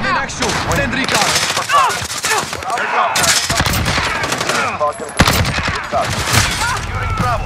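Dense gunfire from Call of Duty: Modern Warfare multiplayer fills the whole stretch, with loud overlapping rifle bursts and rapid automatic fire at close range and game voice callouts mixed in.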